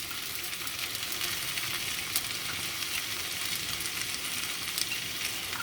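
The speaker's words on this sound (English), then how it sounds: "So now I can put some garlic in with the onions." Chopped garlic and onions fry in a pan for a bhuna malai chicken masala, giving an even, continuous hiss of sizzling oil at moderate volume with no voices.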